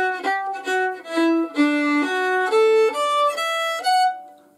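A solo fiddle plays a quick run of bowed notes climbing upward in Turlough O'Carolan's tune Sí Bheag, Sí Mhór, each note clear and distinct, ending on a held tone.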